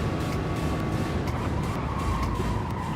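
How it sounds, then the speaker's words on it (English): Race cars in the GT Sport video game, FIA Manufacturer's Cup practice on the Tokyo Expressway, roar steadily with a continuous engine drone and a faint, light squeal of tires running underneath. "You hear really very little tire squeal out of his car."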